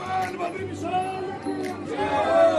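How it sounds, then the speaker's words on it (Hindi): Dense crowd of devotees cheering and chanting at Badrinath temple, voices massed and continuous with swelling shouts, steady and fairly loud throughout. "श्रद्धालुओं की अपार भीड़ के बीच भगवान बद्री विशाल की हर ओर जय जयकार।"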